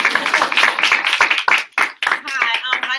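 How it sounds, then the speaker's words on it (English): An audience applauds a teacher being introduced at a live-streamed talk, with a burst of scattered hand claps mixed with voices over about three seconds. "Clap, clap."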